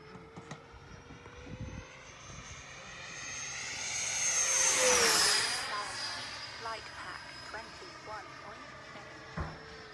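A custom Freewing 90mm F-4 RC jet with afterburner effects makes a high-pitched turbine whine that sweeps past, rising to a loud peak mid-pass and fading with a falling pitch, while people chat in the background.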